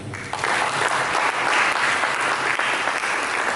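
A church congregation claps loudly and steadily throughout, a dense, sustained wave of applause with no pauses.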